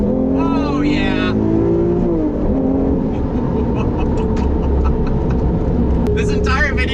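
A Lamborghini Reventon accelerates hard on a straightaway, its engine roaring loudly and steadily with rising revs throughout, while people talk excitedly over it.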